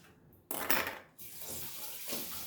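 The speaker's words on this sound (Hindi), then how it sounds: "ये कटोरी भी धो लेती हूँ।" Tap water runs into a sink while a small bowl is rinsed in a home kitchen, a loud splashing burst in the middle that eases into a steady close flow.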